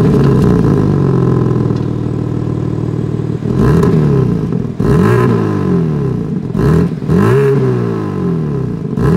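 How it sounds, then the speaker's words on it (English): A 2025 BMW M4 Coupe with quad chrome exhaust tips idles loud and close, then gives several sharp revs that rise and fall in quick succession. "As always, here is that exhaust clip."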